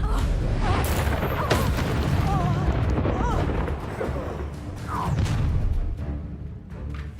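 An Incendio fire spell blasts in Hogwarts Legacy amid combat, with booming bursts and crackling impacts following one another at close range, mixed with other spell effects and voices.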